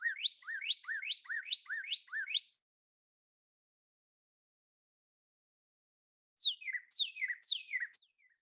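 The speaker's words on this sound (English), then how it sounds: "It's the Space Invader game bird." Series of rapid, descending laser-like whistled chirps from a bird, a burst of about six notes, a pause, then another similar burst, faint and clear.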